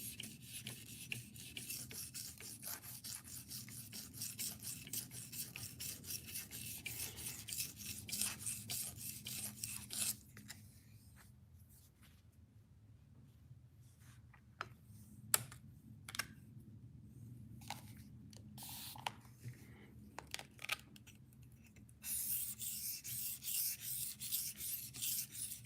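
A knife is drawn across a sharpening stone in even, equal passes, giving soft rasping strokes in a quick steady rhythm that pause for a while midway and then resume. The sound is close but quiet.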